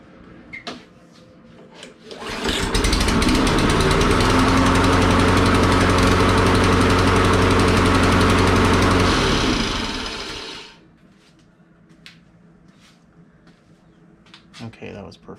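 A Toro lawn mower with a faulty auto choke starts, runs loud and rough for about eight seconds, then cuts out, leaving quiet handling noises before and after.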